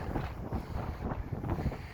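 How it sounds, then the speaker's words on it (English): Strong wind buffets the microphone on a mountain lookout above the Columbia Icefield in Jasper National Park, a steady roaring rumble with gusty surges, loud and close, with no talk. "it's a little windy up here"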